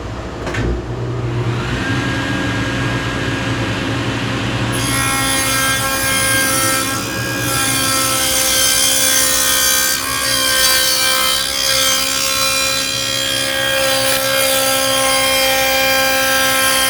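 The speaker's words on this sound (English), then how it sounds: "I've set the dado blade for about a 1/2 inch high" A dado blade on a saw cuts a groove about half an inch deep in wood for a Murphy bed cabinet, a loud continuous whine that deepens into a harsh grinding as the blade bites into the workpiece.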